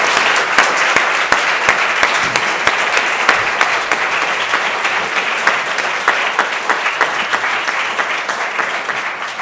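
Steady applause from an audience, many hands clapping continuously with some distinct louder claps, gradually tapering near the end.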